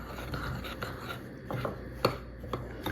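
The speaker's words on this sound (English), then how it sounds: "now I'm just gonna pour it into the crumbs and icing sugar and mix it all together till it's combined thoroughly" A spoon scraping and tapping in a bowl while melted butter is mixed into crumbs and icing sugar, giving close, soft, irregular scrapes with a few sharper knocks and no talking.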